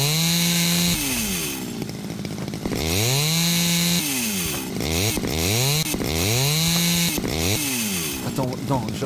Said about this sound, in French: vous devez couper avec la tronçonneuse jusqu'à la longueur appropriée